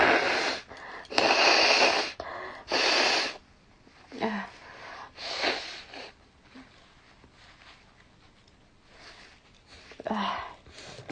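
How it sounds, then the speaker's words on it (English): A person blows their nose several times in loud, close, breathy bursts of varying length, with snuffling and quieter sniffing between them and no talking. "Let me blow my nose."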